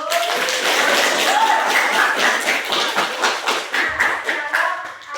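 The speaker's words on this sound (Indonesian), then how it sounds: "kita beri aplaus dulu" Classroom applause after a group presentation in a teaching session, many hands clapping in a lively, fairly close burst that holds steady for several seconds before tapering slightly.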